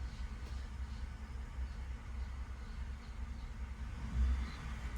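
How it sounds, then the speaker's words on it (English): A 2019 Ford F-150 with the 5.0 engine and a stalling-at-idle fault runs as a steady low rumble, swelling briefly near the end as the revs rise and fall back to idle. "Bump up the RPMs, let it come back down."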